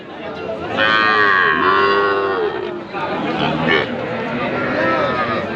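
Small heifer calves moo loudly and close by at a busy rural cattle market in rain, with a long drawn-out call followed by shorter ones over a background of crowd chatter and voices.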